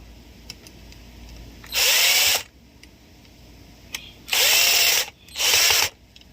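Power tool bursts while screwing slingshot parts together during assembly, three loud whirring runs of about half a second to a second each, separated by quiet pauses, no talking.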